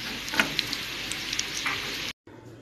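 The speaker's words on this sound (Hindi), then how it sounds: "ऐसे ही मैं सारे फ्राई कर लूँगी।" Chicken macaroni spring rolls fry in hot oil, a steady close sizzle with small sharp pops and crackles, broken by a brief silent cut before a quieter tail.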